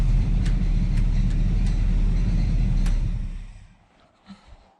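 Race car engine idling and running: a steady, loud low rumble with throaty pulses, close by, that cuts off after about three seconds, leaving a few faint knocks.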